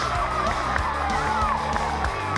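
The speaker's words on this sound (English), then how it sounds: "That's got the crowd on their feet." A rugby crowd at Twickenham roars and cheers continuously, a dense, loud wall of voices with whoops rising over it and a commentator talking on top.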